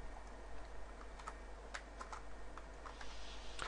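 Keys on a computer keyboard tapped in a short, irregular burst while a network setting for a Vyatta router is entered, with quiet steady room noise behind the clicks.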